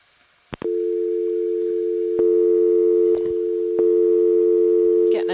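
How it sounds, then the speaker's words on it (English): A steady telephone dial tone drones over loud conference audio from a deep-sea ROV dive, beginning abruptly after two short clicks and holding continuously, with brief clicks and pops breaking in. "We're getting the dial tone over the loud audio here."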